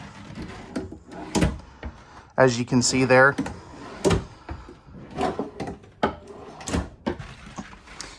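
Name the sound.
soft close drawers in an RV kitchen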